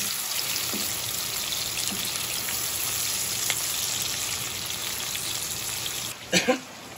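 Food warming in a frying pan gives a steady, close sizzle and crackle that runs the whole time, with a couple of louder clinks of utensil on pan near the end.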